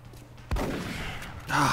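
A single sharp shotgun blast from the video game XCOM: Enemy Unknown, a sudden loud crack that trails into a rumbling decay.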